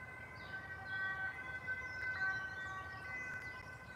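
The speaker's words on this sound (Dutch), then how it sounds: "Hij hoort de sirene, hoor je dat?" Emergency vehicle siren heard faintly from a distance, a steady wailing tone held over a low background hum, with no talking.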